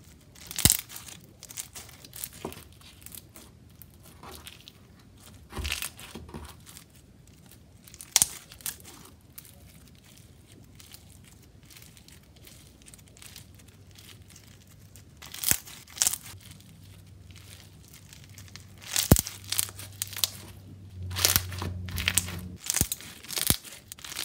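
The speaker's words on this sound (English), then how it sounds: "This slime is super crunchy and it has amazing bubble pops." Crunchy slime made with round slushie beads being squished and pressed, giving scattered crinkly crunches and sharp pops, sparse at first and busier toward the end, close and fairly quiet, with no talk.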